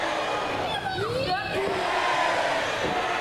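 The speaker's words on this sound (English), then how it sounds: "Oh, the crowd getting right behind it." A wrestling crowd at an RCW Grand Championship match roars and cheers steadily throughout, a dense, loud wash of voices with rising yells and whoops mixed in.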